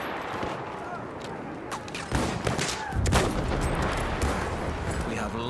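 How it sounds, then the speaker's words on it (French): Enemy machine gun fire on a Verdun battlefield in the game, dense overlapping bursts and shots with heavier impacts layered in, loud and continuous with rising intensity partway through. "C'est une mitrailleuse ennemie."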